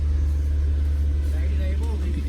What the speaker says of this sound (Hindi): तो गाड़ी हमारी हो गई है स्टार्ट